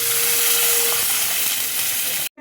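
Water for Maggi noodles, with salt, chopped green chilli and capsicum, boils in a pan, giving a close, steady broadband hiss and bubbling that cuts off abruptly at the end.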